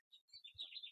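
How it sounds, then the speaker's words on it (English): Several small birds chirping and tweeting outdoors in Guelph on a late-March morning, a few light calls up close followed by a steadier run of bright overlapping song, faint and with no voices. "I hope you can hear the birds singing"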